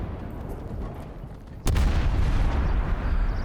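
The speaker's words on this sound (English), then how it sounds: "you are actually doing a counter battery fire on another enemy artillery" Artillery counter-battery fire in a video game, a muffled rumble of distant fire that swells into a sudden loud boom partway through, followed by sustained heavy low rumbling.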